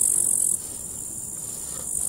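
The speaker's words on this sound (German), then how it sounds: "Und hier mit Grashüpfern im Hintergrund." Grasshoppers chirp in a steady, dense high-pitched buzz that carries on unbroken through a field of fleabane, with no voices.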